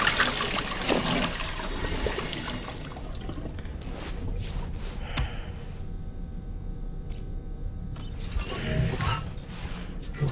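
Water running as a character washes their face in Death Stranding 2: a splashing, trickling stream at first that thins into quieter dribbles and small splashes, then a brief renewed splash near the end.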